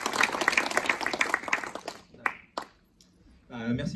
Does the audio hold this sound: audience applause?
yes